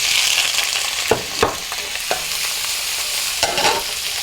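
Shrimp dropped into a hot pan of olive oil, a loud close sizzle with a few sharp clattering stirs and scrapes over the steady frying hiss.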